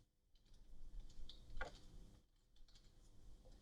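A project name typed on a computer keyboard: a quick run of light key clicks, faint and close in a quiet room, with no one talking.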